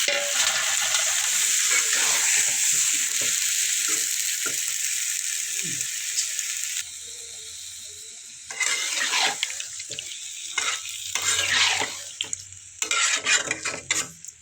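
Boiled potatoes and eggs are stir-fried in a pan: a loud, steady sizzle gives way to choppier bursts of stirring and scraping against the pan.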